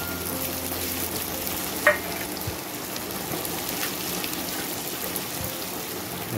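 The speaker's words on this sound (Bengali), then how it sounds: "পেঁয়াজগুলো বেশ লাল করে ভেজে নেব" Chopped onions frying in a pan until reddish, a steady soft sizzle with light stirring scrapes and one sharp clink partway through.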